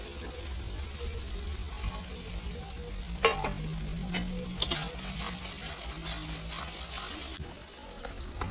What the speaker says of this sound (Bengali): এখন ভাজা পনির দিয়ে দিবি